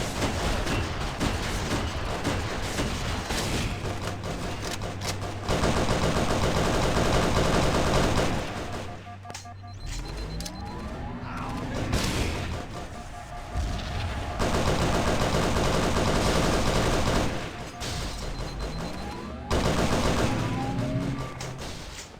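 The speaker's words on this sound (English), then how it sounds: "I don't know what's up with my pistol shots." Pistol gunshots in the VR shooter Halo SPV3 fire in rapid bursts amid game music and combat effects, loud and dense throughout with no pause.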